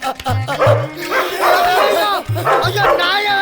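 A loose dog barks in repeated short, sharp bursts, loud and close, with excited voices talking over and between the barks.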